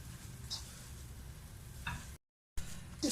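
Spiced minced beef keema with black pepper sizzles in a frying pan while being stirred, giving a steady close frying hiss with a few scraping strokes and a brief cut to silence partway.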